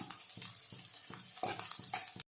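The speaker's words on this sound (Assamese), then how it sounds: "পিঁয়াজখিনি দিয়াৰ পিছত এইখিনি অলপ ৰঙচুৱা হোৱালৈকে ভাজি থাকিব লাগিব" Onions fry in a pan at the start of a mutton curry. A spatula stirs them in rhythmic scraping strokes, about one every few tenths of a second, over a soft sizzle, close and moderately loud.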